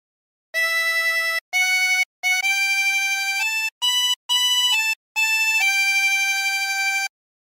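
Harmonica playing a phrase of O Canada, a handful of sustained blown and drawn reedy notes separated by short breaths, bright and close with no talking.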